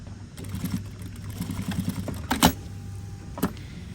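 A sewing machine stitches a men's shirt collar in a steady run, with a low motor hum and fast rhythmic needle ticking, plus a couple of sharp clicks near the end.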